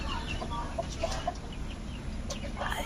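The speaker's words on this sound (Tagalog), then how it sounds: "kasi may mga manok din dito" Chickens clucking softly at a distance over faint outdoor background noise, a few scattered calls.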